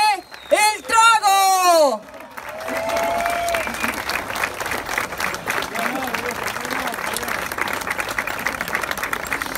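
Festival crowd at an outdoor street-performance awards ceremony breaking into loud, sustained applause with cheering mixed in, following a brief shouted voice from the stage.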